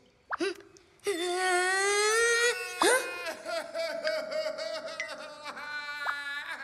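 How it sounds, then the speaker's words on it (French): Someone wails and sobs in long, rising cries broken by sniffling whimpers, loud and close. "quelqu'un pleure ou j'entends des voix?"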